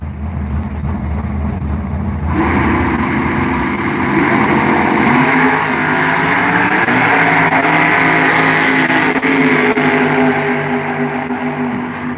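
Drag race cars running eighth-mile bracket racing at a Halloween Classic event: a loud, sustained engine roar builds as a car launches and holds high revs down the strip, heard from trackside without talk.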